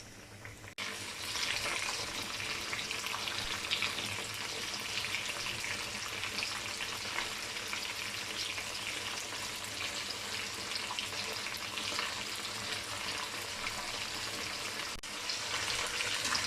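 Crispy chicken fingers fry in hot oil while browning on one side, giving a close, steady, continuous sizzle with faint crackle that holds evenly throughout, without any talking.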